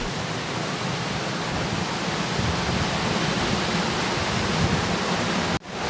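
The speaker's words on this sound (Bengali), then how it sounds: "লিঙ্গগুলির ওপর দিয়ে প্রবাহমান ঝর্ণা স্থান মাহাত্মকে আরও বাড়িয়ে তুলেছে" A waterfall pours over the five Shiva lingas of the Panchalingeshwar shrine in the Nilgiri hills, giving a steady, loud broadband rush that holds constant and then cuts off abruptly near the end.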